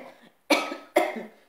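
A person coughs twice, each a sharp, loud, close burst that trails off, with a short gap between them and nothing else audible.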